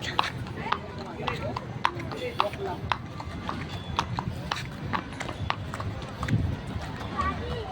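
Horse hooves clip-clop in a steady walking rhythm during a ride in Wright Park, Baguio City, close and distinct, with people talking over the hoofbeats.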